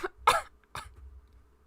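Two sharp coughs a moment apart, close and fairly loud, with quiet background between them.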